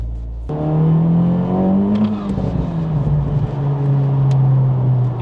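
A Honda Civic Type R FL5 engine with aftermarket intake and bypass valve drones loudly and steadily, rising slightly in pitch then settling, with a whooshing intake and brief valve chirps.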